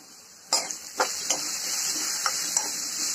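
Onion and garlic sautéing in a pan with mustard seeds for a tomato curry, a steady close sizzle punctuated by a few sharp spatula taps and scrapes, with no one speaking.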